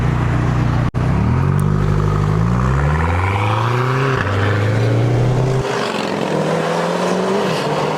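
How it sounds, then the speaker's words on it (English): A McLaren GT sports car accelerates past a listener outside, its engine climbing through several rising gear pulls with brief shift breaks, loud and close before the roar fades as it moves away. "we're gonna show you what it sounds like from the outside"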